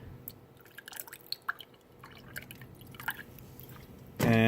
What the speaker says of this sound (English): for the sake of the video, I'm just going to pour some water into this